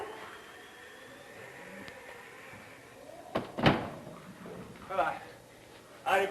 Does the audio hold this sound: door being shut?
yes